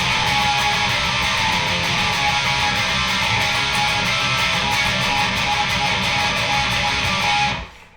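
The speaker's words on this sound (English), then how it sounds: "We're going to play that twice, and then it just kind of does this back and forth" Distorted electric guitar churns through the back-and-forth closing riff of a song, a loud, continuous wash of fast strummed chords that stops abruptly at the end.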